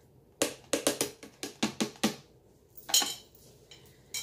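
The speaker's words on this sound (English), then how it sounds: "So our next step is to put our beans." Rinsed canned beans go into a crockpot with a quick series of about eight sharp metallic scrapes and taps, like a spoon against a can or pot, followed by a few scattered clinks.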